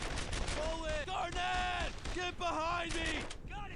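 Game gunfire in a WWII firefight from Brothers in Arms: Earned in Blood, with dense bursts and shots under near-constant shouting and voices over the top.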